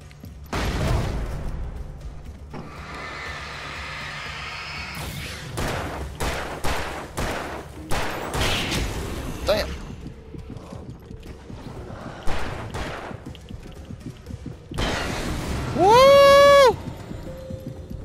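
Flashbang and gunfire in the Alan Wake video game: a string of sharp, loud shots and bangs across the scene, ending in a bright ringing burst, with a voice talking over parts of it.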